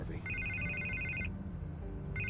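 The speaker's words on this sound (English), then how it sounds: "I can't get the phone to stop ringing" A telephone rings in Batman: The Telltale Series with a steady electronic trill in two bursts, a long ring then a second starting after a short pause, heard over a low background rumble.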